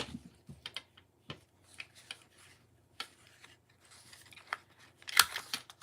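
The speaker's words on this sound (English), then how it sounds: "now I'm going to attempt to do it with my scissors" Scissors cutting in a quiet room, a scattered series of soft snips and clicks at irregular intervals, with one louder, sharper snip near the end.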